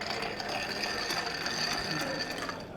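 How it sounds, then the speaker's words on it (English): A cocktail stirred with ice in a mixing glass at a fine-dining bar in Mumbai, a steady rapid rattling and clicking of ice against glass that runs continuously and close. "Usually we stir cocktail for slow dilution."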